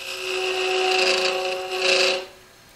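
Spindle roughing gouge cutting a spinning wood blank on a lathe, a steady loud rasping scrape with a steady hum running under it, swelling twice before easing off near the end.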